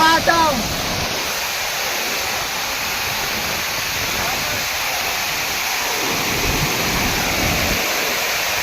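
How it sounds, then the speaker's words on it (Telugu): The Kudiyya waterfall near Araku roars in a constant, broad rushing wash close by, steady and loud throughout, with a brief voice at the very start. "జలపాతం"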